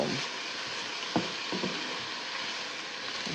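Onions caramelizing in a pan give off a steady, broad hiss of sizzling oil with a couple of faint taps from a utensil, close and even throughout.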